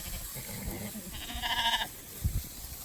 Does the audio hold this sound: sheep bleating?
yes